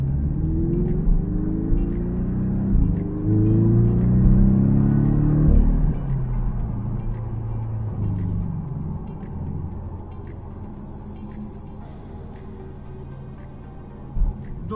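A Porsche 718 Cayman S with a four-cylinder engine drives along, its engine droning and rising in pitch through the gears, then easing off to a lower steady cruise hum with road rumble.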